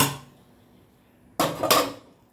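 A lid goes onto a cooking pot of papaya curry with a short double clatter of metal, close and fairly loud, after a quiet pause. A faint clink sounds at the start, and no one speaks.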